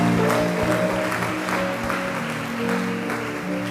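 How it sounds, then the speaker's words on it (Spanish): Congregation in a church service applauding together, a steady dense wash of clapping sustained throughout with music tones held underneath. "Denle un aplauso bien fuerte a Jesús."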